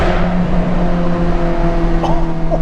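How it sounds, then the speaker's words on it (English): Steady loud car engine hum under acceleration approaching a tunnel, with a sustained drone and rising harmonics, no talk over it. "We got a tunnel coming, and we gotta press this gas."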